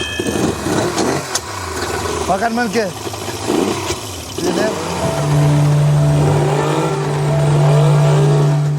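An outboard motor on a pirogue on the Maroni river in French Guiana starts up partway through and settles into a steady, loud drone after people talk over the opening seconds.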